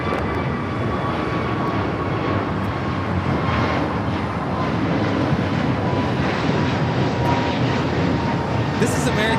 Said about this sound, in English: American Airlines 2002 taking off to Las Vegas on the A321neo